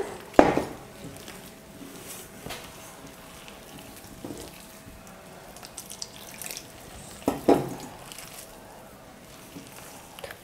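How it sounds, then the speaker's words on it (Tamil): Water is poured into a bowl of flour for sweet bonda batter, followed by quiet intermittent mixing and scraping sounds, with a second splash of pouring later on. "நான் கொஞ்சம் கொஞ்சமாக தண்ணி சேர்த்து மாவு பிசைஞ்சுக்க போகிறேன்"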